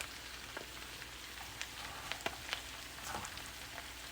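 Onions sizzle gently in oil and butter in a pan, a steady soft crackle with scattered small pops, faint and continuous with no talking.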